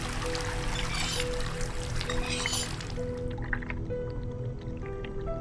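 Water pours in the horror video game Asylum as a dense rushing splash for about three seconds, then it thins into scattered drips and trickles against a low ambient hum.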